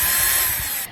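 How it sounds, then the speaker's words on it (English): A power drill bores through the original two holes into a new replacement shoe heel, giving a brief, loud, steady whirring grind that fades at the very end. "I'm going to drill through my original 2 holes to create a mark on my new heel."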